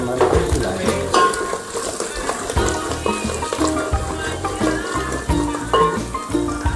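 Chicken cooking with onion, garlic and garam masala, a loud, dense frying sizzle with stirring scrapes and pan clatter, close to the ear throughout.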